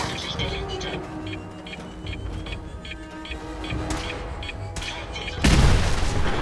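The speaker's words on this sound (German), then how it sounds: "Das Auto explodiert auch nochmal." A car blows up in the video game Fallout 4, a dull boom with a burst of noisy crackle near the end over layered game sounds and gunfire-like hits; someone talks earlier in the sequence.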